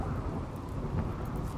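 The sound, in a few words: thunder and rain in the Rimworld video game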